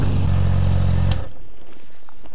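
A motorbike engine running loud and steady at idle while parking, then cut off abruptly about halfway, leaving near silence.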